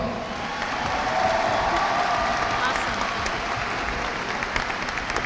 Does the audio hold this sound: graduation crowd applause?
yes